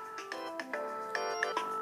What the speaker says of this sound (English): it's my phone ringing